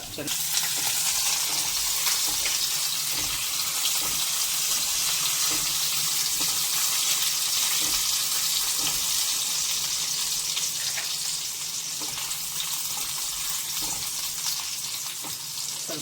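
Chopped ginger fries in oil for prawn fried rice, a loud, continuous sizzle with soft scraping stirs and faint clinks, steady throughout and nearby.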